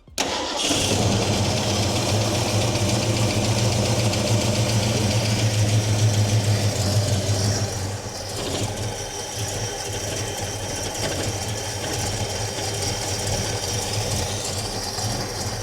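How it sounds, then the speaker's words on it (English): A 1969 Fastback's engine running at a deliberately lowered idle, a steady close rumble that dips and roughens partway through as the revs sag, with no talking. "I turned the idle down a lot, so it's probably not going to want to stay running by itself anymore."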